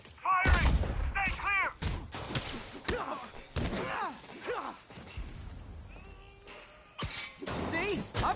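Enemy gunfire in Marvel's Spider-Man crackles in sharp, scattered bursts and thuds amid a fight, mixed with frequent in-game voices shouting over the action.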